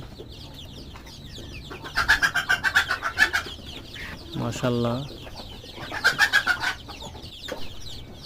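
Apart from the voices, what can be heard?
chicks chirping on a poultry farm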